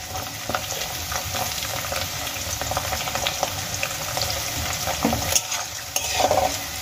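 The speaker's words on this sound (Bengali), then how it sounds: "সয়াবিন আর আলু আমি একসঙ্গে 2 মিনিটের মতো ভেজে নেব" Soaked soybean chunks and potatoes frying together in a pan, a steady close sizzle running throughout with stirring scrapes and a few sharper clinks near the end, and no one talking.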